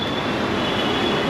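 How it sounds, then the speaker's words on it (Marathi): A Pune metro train runs along, heard from on board as a steady, loud rumble of wheels on rails with a thin high whine, no voices. "फर्स्ट टाईम आम्ही मेट्रोने चाललोय."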